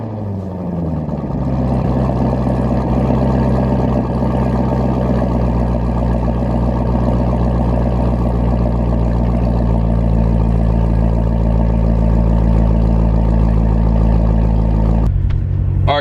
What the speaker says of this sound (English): I'll do a cold start for you in 65 degrees.